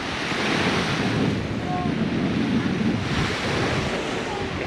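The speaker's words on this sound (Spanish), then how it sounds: "Esta playa está espectacular." Surf rolls steadily onto a beach on Koh Phangan, Thailand, a continuous close wash of breaking waves roughened by wind buffeting the microphone, with no voices.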